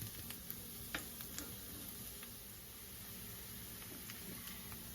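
Onion and garlic sautéing in a pan for pasta sauce, a soft continuous sizzle with a few faint ticks of a spoon against the pan, quiet and without speech.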